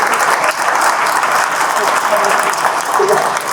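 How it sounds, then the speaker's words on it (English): An audience claps continuously for the panels at a conference event, a dense, loud wash of applause with a voice faintly mixed in. "So let's have a round of applause for all our panels"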